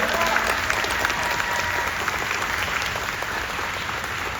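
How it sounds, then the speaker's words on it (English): A convention panel audience claps loudly and steadily, a thick continuous burst of applause filling the room, with some speech faintly underneath. "Y'all better clap for that."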